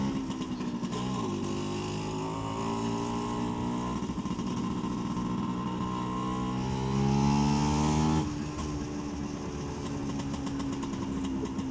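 A Vespa PX125 two-stroke scooter engine runs close and loud, its buzzy tone rising and falling as it revs through gears, swelling to a peak before easing back to a steady drone.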